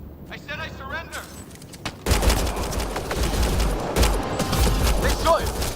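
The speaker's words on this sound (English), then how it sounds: "They shot him!" Gunfire in the video game Mass Effect Andromeda: a sudden loud burst of rapid shots breaks in and continues as dense, repeated firing, preceded by quieter game sounds and voices.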